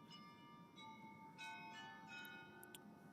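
Church bells chime in Kiev, Ukraine, a ringing, sustained peal with several struck notes layered over steady city background noise, moderately distant and fairly faint.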